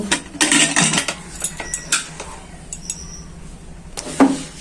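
Metal pressure cooker lid clinking and scraping onto a pot of mutton in a home kitchen, a few sharp metallic clanks and rattles spaced out, close and fairly loud, then quieter handling.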